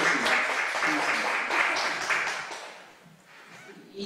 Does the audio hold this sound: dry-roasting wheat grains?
no